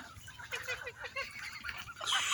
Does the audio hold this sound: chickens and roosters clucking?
yes